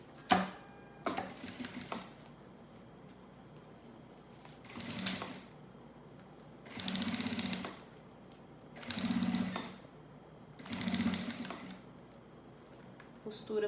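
Sewing machine stitching the edge binding of a thermal school lunch bag, running in four or five separate bursts of a few seconds each, close up, with short quiet pauses between runs.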